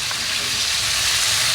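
Pork and pancetta mix for chili con carne sizzles loudly and steadily in a hot pan, a dense, continuous frying hiss with no pauses.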